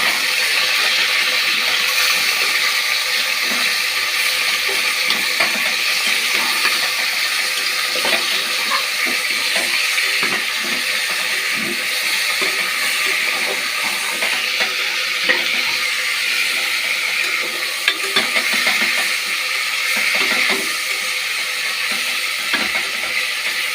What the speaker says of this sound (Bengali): এটাকে লাড়বো